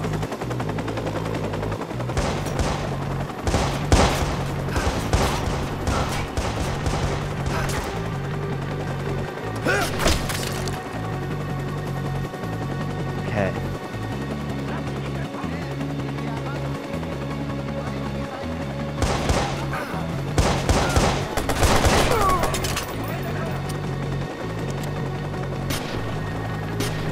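Bursts of rapid gunfire crackle through a Watch Dogs video game fight, with repeated automatic volleys and heavy impacts over a steady background music loop, loud and close, with occasional speech.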